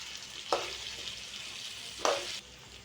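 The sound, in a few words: stirring bitter gourd curry with tomato pieces in pan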